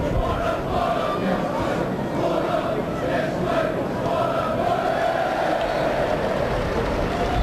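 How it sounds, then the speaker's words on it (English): A large football crowd roars steadily in a sold-out stadium of over 13,000 fans at a Plymouth Argyle versus Chelsea match in the 1996/97 season, forming a dense, continuous wash of voices and chanting. "And as expected, a big crowd here."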